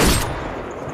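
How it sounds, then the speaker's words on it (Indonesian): Gunshot in a film, a single sharp crack at the start that fades into a rumbling echoing tail, heard alone with no talk. "Tak lama kemudian suara dor terdengar dari kejauhan."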